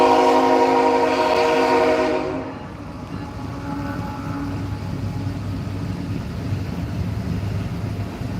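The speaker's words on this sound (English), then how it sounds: "we got a freight train coming" A freight train rumbles past with a horn or whistle sounding loudly for the first two seconds, then a steady, continuous rolling roar of cars carries on to the end.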